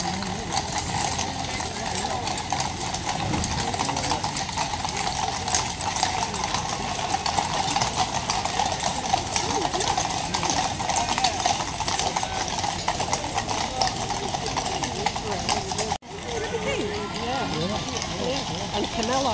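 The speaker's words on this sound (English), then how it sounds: "Couple of frisky horses." Horses' hooves clip-clop along the Mall during Trooping the Colour as a Household Cavalry Life Guards mounted parade passes, a steady uneven patter of many hooves under continuous crowd noise and nearby talk.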